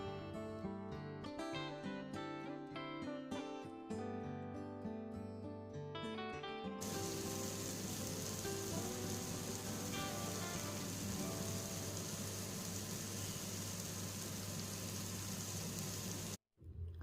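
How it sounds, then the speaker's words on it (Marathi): Prawns marinated for a crispy, spicy fry cook on a tawa over a low flame. After a stretch of music, a steady close hiss of oil carries on evenly and cuts off near the end. "एका साईडने आपल्याला 3 मिनिटे ही तव्यावर छान अशी मंद आचेवर भाजून घ्यायची आहे।"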